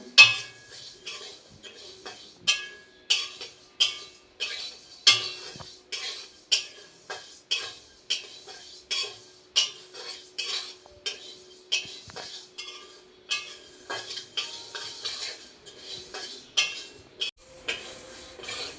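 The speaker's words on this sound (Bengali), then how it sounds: "এটা করে একটু নাড়াচাড়া করে ভেজে নেব।" A spoon stirs and scrapes dal frying in a pan, making a steady rhythm of close metallic clinks and scrapes that repeats roughly every second, with a soft sizzle underneath.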